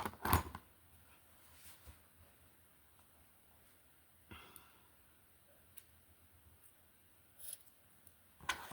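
Scissors snip through crochet yarn in a couple of quiet, close, isolated cuts, with long near-silent gaps between them.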